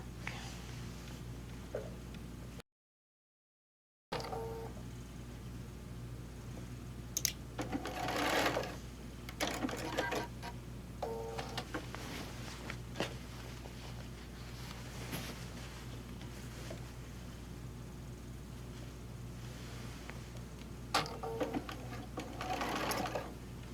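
A sewing machine stitches a small tack on a quilt, running in a few short bursts of fast mechanical chatter over a constant low motor hum, close by, with pauses between runs and no talking.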